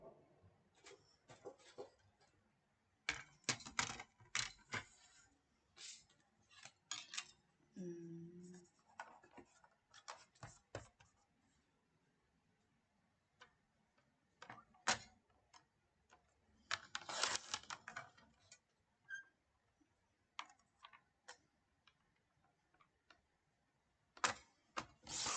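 Paper is cut with scissors to make a pennant-shaped card, a series of close, crisp snips and rustles in irregular bursts with quiet pauses between.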